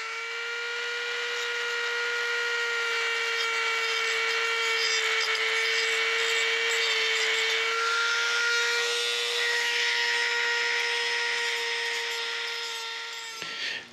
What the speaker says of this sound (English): we're going to take the Dremel tool and we're going to clean this all up so there's no sharp edges